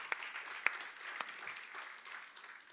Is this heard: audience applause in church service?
yes